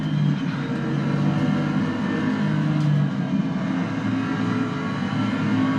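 A racing car engine in a sim racing game revs and accelerates steadily, a loud continuous drone rising in pitch with no speech over it.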